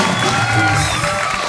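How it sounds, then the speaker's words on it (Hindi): A studio audience at a TV comedy show claps and cheers in a steady, dense roar, loud and close, with a sustained musical tone running underneath. "जोरदार तालियां"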